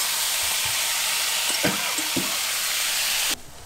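Tempeh frying in a pan, a steady loud sizzle with a few soft clinks and scrapes of stirring, then cutting off abruptly near the end.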